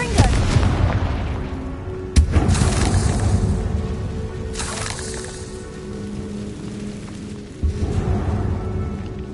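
Confringo blasting spell in the fantasy action game Hogwarts Legacy, with sharp booming explosions at about two and seven and a half seconds over a rumbling, rain-like crackle of in-game ambience, with voices shouting over it.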